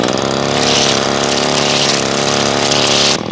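A gas string trimmer runs steadily and loud up close, cutting grass along tight garden bed edges, its engine drone holding even before cutting off near the end.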